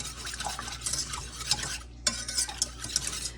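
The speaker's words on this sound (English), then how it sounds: "now I'm going to give this a whisk and try and get it incorporated" Whisk stirring homemade pumpkin spice creamer with sugar in a pot, a brisk scraping swish that runs steadily with a brief pause midway, close and fairly quiet.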